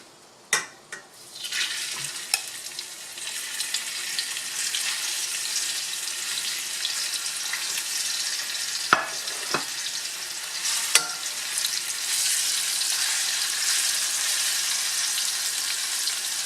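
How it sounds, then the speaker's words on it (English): Beef sizzles and fries in a hot pan with a steady, bright hiss, punctuated by a few sharp clatters and stirring knocks early on, with no talking. "I believe it's hot already, so we're gonna put our beef in here."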